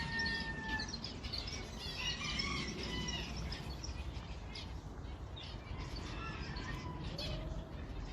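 Three Ko Shamo chicks chirp in repeated high, thin peeps, with a rooster or hen calling now and then amid constant background hiss.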